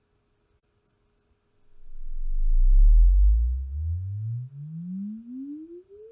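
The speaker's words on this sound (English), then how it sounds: "You saw the chirp, and then the measurement of the subwoofer" A Room EQ Wizard measurement sine sweep plays through a tweeter as one quick, loud rising chirp. After a pause, a long low-frequency sweep from the subwoofer slowly climbs in pitch.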